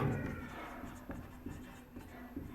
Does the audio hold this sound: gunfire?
no